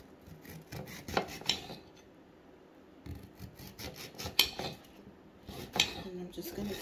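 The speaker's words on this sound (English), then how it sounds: "And I'm just going to keep slicing it, you guys, in slices." Knife slicing through an orange bell pepper on a cutting board, producing a series of sharp crisp cuts and taps in irregular bursts, close and fairly quiet, with no talking.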